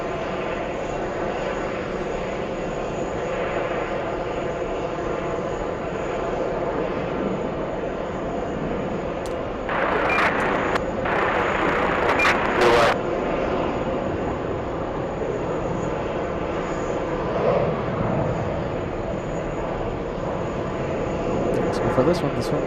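A jet airliner takes off at JFK airport, a broad, steady distant engine roar that swells slightly near the middle, with people talking over it throughout.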